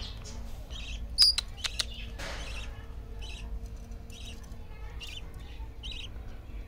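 Budgerigar chicks in a pet bird setup give soft, high chirps in a loose repeating series, with a few sharp clicks and scrapes early on and a low hum underneath.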